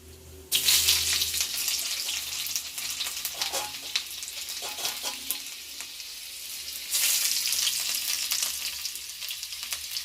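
Cumin and mustard seeds crackle and sizzle in hot oil in a kadhai, a steady close frying hiss with dense popping that begins abruptly and swells again near the end.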